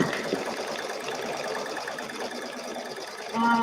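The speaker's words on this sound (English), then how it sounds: "And we're stitching." A sewing machine runs steadily while stitching a quilt, a continuous close whir that holds even throughout and picks up slightly louder near the end.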